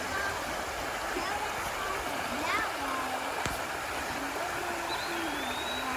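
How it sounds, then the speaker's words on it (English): A small river stream on a Great Smoky Mountains hiking trail flows with a steady, even rush of water, close and constant, with faint bird chirps over it. "as soon as you get started, you'll see this little river here."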